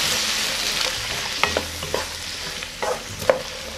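Onions stir-fry in a pan with soy sauce, a steady bright sizzle under scattered scrapes and taps from a stirring utensil, close-up with no talking.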